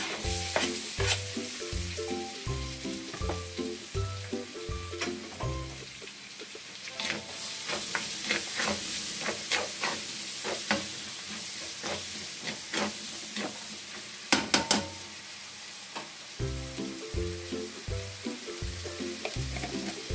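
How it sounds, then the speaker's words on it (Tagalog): Garlic and onion sauté in margarine in a pan for creamy spaghetti, with a steady sizzle and repeated utensil scrapes and taps, all under rhythmic background music. "Lagyan po natin yung bawang at ang sibuyas."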